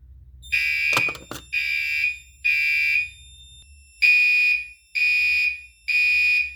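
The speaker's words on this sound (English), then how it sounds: "When the system goes into alarm, the Commander 3 does like normal code 3 for about 3 or 4 pulses" A Commander 3 fire alarm system sounds in code 3, with loud, shrill electronic horn pulses in groups of three separated by a pause, and a couple of sharp knocks near the start.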